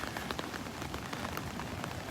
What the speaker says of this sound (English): Still drizzling here. The rain has not stopped yet.